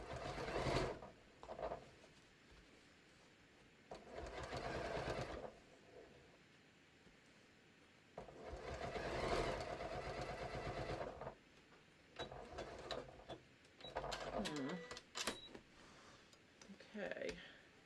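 A home sewing machine runs in several bursts of rapid mechanical stitching while sewing a quilted batik floppy hat, stopping and starting between runs, with someone speaking quietly in the pauses.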